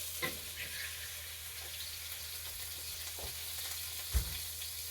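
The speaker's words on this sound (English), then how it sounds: "we are gonna be warming our shrimp for about a minute." Shrimp sizzle in a hot pan with a steady, dense crackle, close and fairly loud, broken by a couple of dull knocks from the pan.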